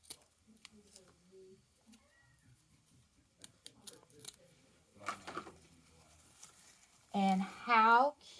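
Scissors snip ribbon tails on a Peep wreath craft, a few faint, sparse clicks and cuts amid quiet handling, then someone speaks briefly at the end.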